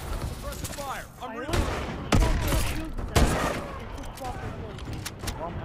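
Rapid bursts of gunfire from the video game Call of Duty Advanced Warfare crackle through the mix, several sharp volleys landing over players chatting on voice.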